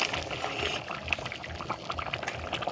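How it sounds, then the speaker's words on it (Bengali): Tarka dal with kidney beans and egg comes to a boil in a pot, giving a continuous, close bubbling with small pops and gurgles throughout. "দেখো তরকা ডালটা ফুটে উঠেছে।"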